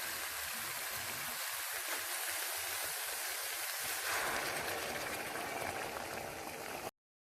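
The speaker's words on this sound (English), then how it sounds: "Now I'm going to add the water." Water poured into hot oil in a cooking pot for an okra dish, giving a steady, loud sizzling hiss with bubbling that continues for several seconds.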